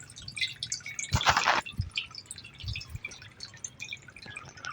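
Water from a motor pump pours into a storage tank, giving a steady wet splashing and dripping with one louder gush about a second in. No voices are heard.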